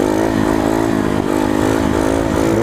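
A Coolster 125 pit bike engine revs hard and steadily during a wheelie, giving a close, loud, buzzy single-cylinder drone with slight wavers in pitch.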